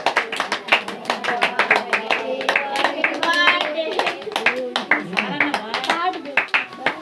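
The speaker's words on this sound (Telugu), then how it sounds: "చప్పట్లు కొట్టండి" A group claps hands at a birthday gathering with prayer, a steady run of sharp, quick claps filling the whole stretch, with children's and adults' voices singing and chattering underneath.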